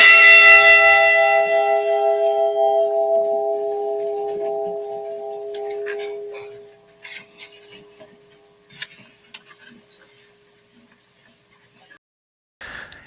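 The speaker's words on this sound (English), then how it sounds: "Ringing in remembrance of all mariners lost on the Great Lakes." A model of the Edmund Fitzgerald ship's bell is struck once, ringing loud and clear with long sustained harmonics that decay slowly over several seconds. Faint rustling and handling noises follow, then a soft knock at the end.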